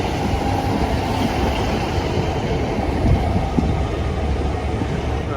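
A passenger train leaving a station rumbles steadily past, loud and close, with a continuous rolling roar and faint rail clatter.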